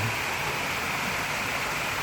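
A waterfall rushes in a steady, dense wash of flowing water that fills the scene evenly at moderate level, with no voices heard.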